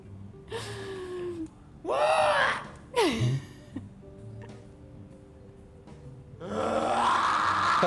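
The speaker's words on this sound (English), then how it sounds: "There's one guy that yawns a whole bunch of times." A man yawns again and again, each yawn a long, drawn-out breathy vocal sweep rising and falling in pitch. Several yawns come in close succession over a quiet background.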